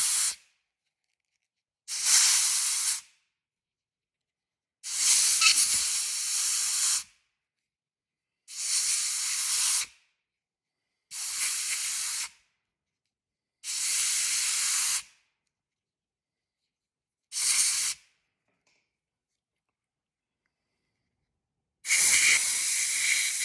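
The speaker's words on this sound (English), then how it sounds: "I'm going to take the air hose and kind of blow that out a bit to get that out of the pores" Air hose blowing out a cleaned rear wiring harness from a 1979 Trans Am, eight separate bursts of loud hissing air, each lasting about a second or so, with silent gaps between them.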